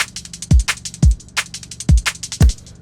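Electronic drum pattern for a trance drum and bass track, with deep kicks falling roughly every half second and a bright clap used in place of a snare, plus crisp hi-hats. The mix is close and punchy, with no voices.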